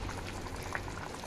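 A pot of paneer curry simmering on a low flame, a dense steady bubbling close by with no voices.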